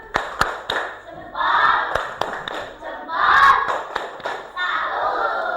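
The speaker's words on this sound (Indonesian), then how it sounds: "Kasih tepuk salut dong buat kelompoknya Mas Zafran ya." A classroom group of pupils performs a tepuk salut clapping chant, sharp rhythmic hand claps alternating with loud shouted chanting voices in unison, close and energetic throughout.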